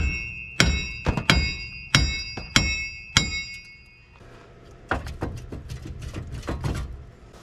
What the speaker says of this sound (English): All right, get yourself a big hammer.